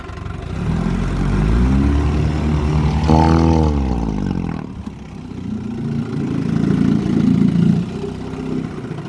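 A 1958 Johnson FD12 outboard motor runs loud and close, its steady drone climbing in pitch as it revs midway, then dropping back and settling into a steady run.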